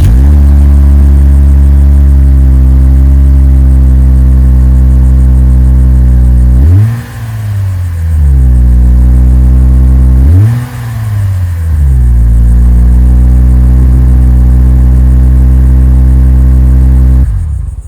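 A Lexus IS250 fitted with a Megan Racing aftermarket exhaust idles loudly and close up with a deep, steady drone, broken by two sharp throttle blips that rise and fall before settling back to idle.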